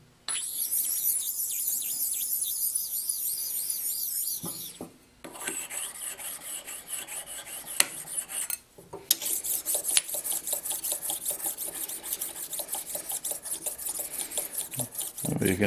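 A stone is rubbed flat against a precision ground flat stone, giving a steady, close gritty rasp of back-and-forth scraping strokes that stops briefly twice before the grinding resumes, with no talking.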